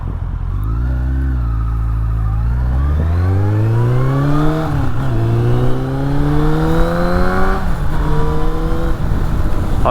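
A Suzuki Bandit 1200 motorcycle engine pulls up through the revs, its loud, close exhaust note rising in pitch over several gear changes, each shift dropping the tone briefly before it climbs again, with no talking.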